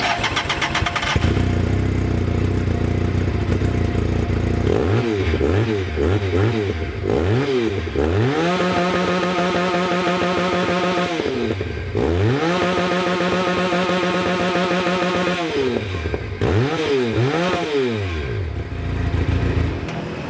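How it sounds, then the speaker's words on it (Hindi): A motorcycle with its stock exhaust idles with a throaty rumble, then revs repeatedly, pitch climbing and dropping, with longer held revs in the middle; loud and close. "ये अपने स्टॉक एग्जॉस्ट में है और इसकी भी साउंड सुन लेते हैं।"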